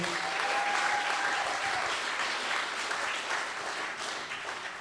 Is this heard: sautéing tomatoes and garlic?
no